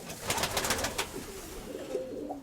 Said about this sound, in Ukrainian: одне голубеня, бачите, таке риже